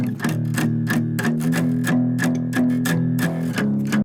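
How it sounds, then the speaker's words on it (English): Acoustic guitar played with palm muting, tight chugged chords struck in a steady rhythm, each stroke dampened and punchy, loud and close with no voices. "I use an acoustic guitar for this,"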